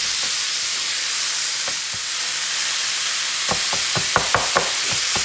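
Onions fry in a pot with a constant hissing sizzle, and a run of sharp scraping knocks near the end as a spatula stirs them.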